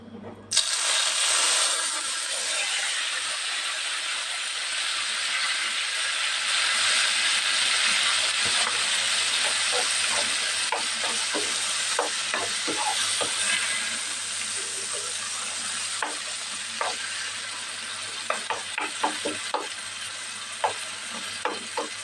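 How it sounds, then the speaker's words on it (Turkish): A steady loud sizzle of chopped tomatoes frying in hot oil, with scattered sharp pops and crackles growing more frequent toward the end. "şimdi bu yağın içine bu domatesi koyuyorum"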